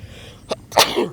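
A single sharp sneeze during a sports talk show, loud and close, with a brief intake of breath just before and a short trailing vocal tail after.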